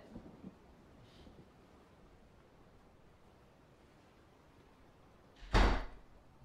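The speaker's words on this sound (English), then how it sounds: "Yeah, I keep hearing thunder too." A single thunder crack in Fortnite strikes sharply and loud near the end, after a long stretch of quiet ambient hiss with a few faint thumps.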